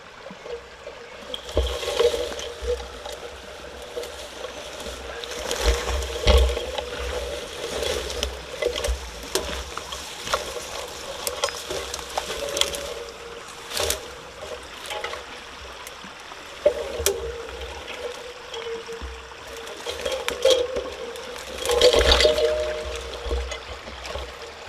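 A small, fast-flowing stream runs steadily close by, its broad rushing water broken by brief splashes and gurgles, with no voices over it.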